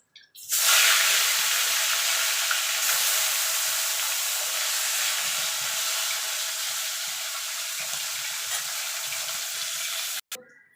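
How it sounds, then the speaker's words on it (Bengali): Bata fish dropped into hot oil burst into a loud, dense hissing sizzle that holds steady for about ten seconds, then cuts off abruptly, with no speech over it. "বাকি যে দুটো আছে সে দুটো ভেজে নেব।"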